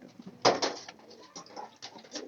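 Domestic pigeons cooing close by in a home loft, a few soft throaty rolling coos in quick succession, one louder near call standing out, with no talk.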